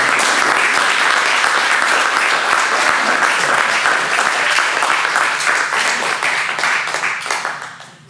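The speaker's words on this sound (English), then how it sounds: "So please, let's get a round of applause as we welcome" Improv comedy show audience giving a big round of applause, a loud, dense burst of many hands clapping nearby that holds for several seconds before tapering off at the end.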